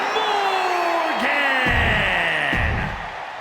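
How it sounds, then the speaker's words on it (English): A video-game wrestling arena crowd in WWE 2K24 roars with sustained cheering and whooping, loud and dense throughout, with a bright rising tone over it before the noise tapers slightly at the end. "Listen to that crowd!"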